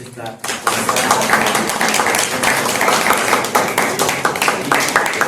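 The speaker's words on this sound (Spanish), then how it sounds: "Y un aplauso para Virgilia Volcanes," An audience at an academic literature panel breaks into sustained, dense clapping that starts abruptly and continues steadily throughout.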